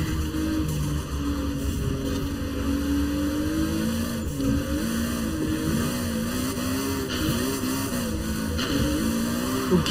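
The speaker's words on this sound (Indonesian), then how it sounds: "Gigi 6 pun masih nge-spin." Engine of a Hot Wheels 2Jetz with a Fairlady Z chassis and Supra engine in Forza Horizon 4, revving hard and steadily through wheelspin in sixth gear, a loud continuous roar with wavering pitch and no voices.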